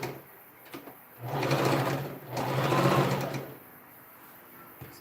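A domestic sewing machine stitches seams on a princess dart dress in two bursts of a second or so each, a close whirring rattle with quiet pauses and small handling clicks between.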